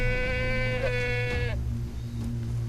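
A mountain sheep in Far Cry 3 lets out a loud, wavering bleat for over a second, followed by quieter in-game ambience and a faint short cry.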